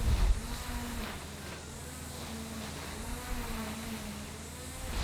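Honey bees buzzing around an opened Langstroth hive fitted with a flow frame super on a farm: a steady, close droning hum holds throughout with a wavering pitch.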